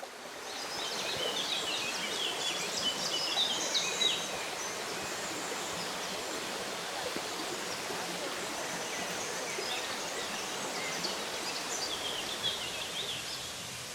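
Little streams trickle through green meadows along the Camino de Santiago near Triacastela, a steady, broadband rush of flowing water that runs the whole time with faint bird calls above it.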